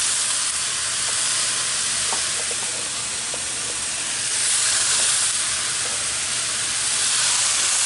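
Chunks of squirrel meat and sweet potatoes fry in a hot pan with a constant loud sizzle and hiss, with a few faint scrapes and taps as the food is stirred around, and no voices.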